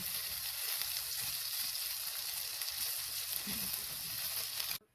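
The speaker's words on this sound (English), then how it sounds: "I have about 2 tablespoons of olive oil heating up" About two tablespoons of olive oil sizzle steadily as they heat in a pan for homemade Italian tomato sauce, a loud, dense frying hiss that runs unbroken and then cuts off abruptly at the end.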